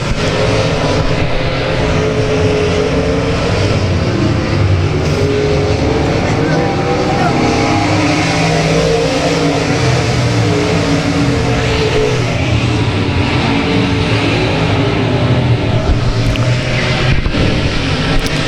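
Race cars roaring around the oval at South Texas Speedway during a race, a continuous loud wash of engines with cars passing, while an announcer calls the running order over the top.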